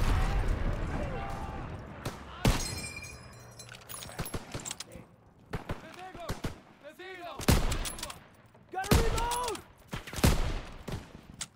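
Gunfire in the World War II shooter video game Call of Duty WW2, with rapid bursts and single loud shots in uneven clusters amid combat noise, while people talk between shots.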